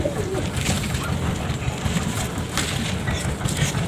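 Pigeons cooing among a flock of fancy pigeons, including a Madrasi-Punjabi cross with blue feet, a low steady coo sitting under continuous background noise and a faint engine hum throughout.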